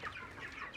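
Chickens on a poultry farm clucking softly in a brief, faint snatch of overlapping calls, with no talk.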